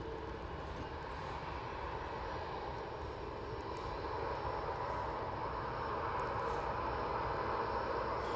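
An EasyJet airliner taking off from an intersection at Manchester Airport roars steadily as a broad, continuous engine rumble that holds for the whole stretch.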